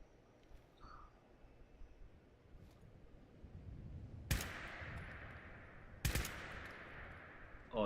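Two sharp, isolated semi-automatic gunshots from a weapon in the game System Shock 2, spaced a couple of seconds apart, each with a brief ringing tail over a faint ambient hum.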